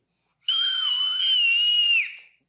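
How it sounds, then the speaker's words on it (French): A little girl's high, piercing scream at about 95 decibels, one sustained shrill cry lasting around a second and a half before trailing off, heard alone against silence. "95 décibels, c'est comparable à une petite fille qui crie"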